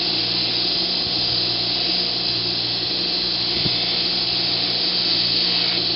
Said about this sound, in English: I'm going to kind of go around everything with the Scotch-Brite wheel lightly